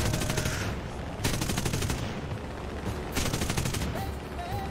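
Machine guns blazing in a combat flight game dogfight between a G8N and a B-24: two long rapid-fire bursts with a short gap between them, loud and rattling over a constant roaring engine drone.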